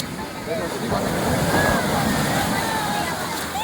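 Sea water at Digha beach washes in as a steady, loud surf roar, with continuous sloshing and splashing filling the whole stretch.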